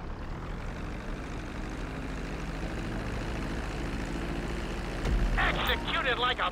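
A plane's engine drones steadily during a landing approach in GTA V, a continuous loud hum with a brief louder burst of higher noise near the end; no speech is heard.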